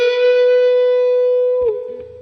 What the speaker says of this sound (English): bending the 14 on the 3rd string